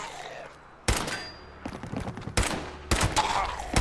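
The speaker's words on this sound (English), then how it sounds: "if you shoot their arms, they go like that" Gunfire in the video game Fallout 76: three loud bursts of shots a second or so apart over a busy, continuous game soundscape, close and dominant.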